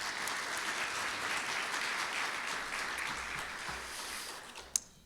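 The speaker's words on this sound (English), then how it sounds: "Let's give Keith another round of applause." Applause fills a room at a Rotary meeting for guest speaker Keith, a steady wash of many hands clapping at moderate volume for about five seconds, with one sharper clap standing out near the end as it fades.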